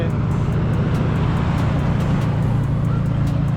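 A Mitsubishi Lancer EX driving on the road, heard as a steady, loud low rumble of engine and road noise with no talking.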